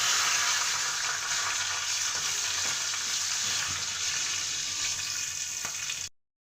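Whole cumin, bay leaf and garam masala hit hot oil in a pan. A loud, steady, close-up sizzle and crackle runs unbroken until it cuts off abruptly.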